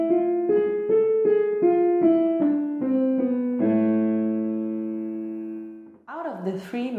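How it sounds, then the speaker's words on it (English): A voice sings a harmonic minor scale in a low A2 to E4 range for a vocal warm-up, stepping through the notes one by one before settling on a long held final tone, followed by a short burst of another sound. "The harmonic minor is one of the three main minor scales in music"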